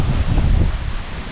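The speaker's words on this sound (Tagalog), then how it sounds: "Grabe lang sa hangin." Strong outdoor wind buffets the microphone in a steady low roar with some leaf-like rustle, loud and continuous throughout, without any voices.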